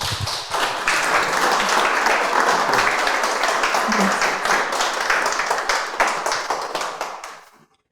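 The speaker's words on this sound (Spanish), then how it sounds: "quiero pedir que podamos recibir con un fuerte aplauso a nuestra invitada del día de hoy, Tirsa Ventura" Audience applause greeting a guest speaker at a forum, a loud, dense round of clapping from many hands that holds steady for several seconds and then tapers off quickly to silence.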